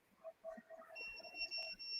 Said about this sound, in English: Is your truck beeping?